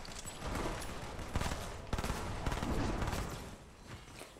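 Gunfire in the video game Fortnite: a quick string of sharp shots and short automatic bursts over about four seconds, fairly loud against a busy game background.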